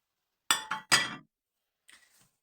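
Glass object clinking in a kitchen: three sharp, ringing taps in quick succession, then a fainter pair of light clinks a moment later, with no voices.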